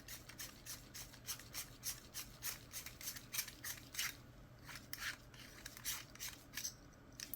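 Metal lens tool unscrewing the retaining ring of a Konica 35mm f2.0 lens, a series of faint, rhythmic scratchy grinding strokes close up with short gaps between turns.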